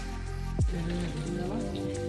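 Steady rain hisses across the whole stretch, a dense wash of patter with a low droning hum underneath; no voices.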